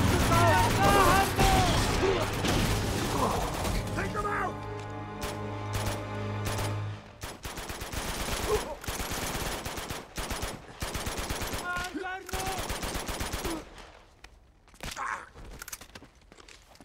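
Gunfire in the Uncharted 2 video game as shots are aimed at a vehicle's tire: rapid bursts of automatic fire over a dense, loud action mix, thinning into scattered single shots and then fading toward the end.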